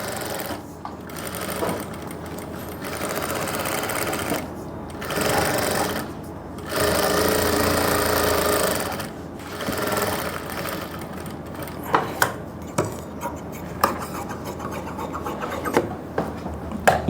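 A sewing machine stitches the edge of a suit neckline in bursts of fast whirring motor and needle chatter, pausing and restarting several times, with light handling clicks and taps of the fabric near the end.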